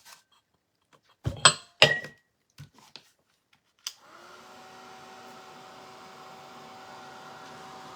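A hand-held dryer blows over a decoupaged clay pot, a steady whirring hum that starts after a few sharp clinks and knocks of jars being handled and then runs alone to the end.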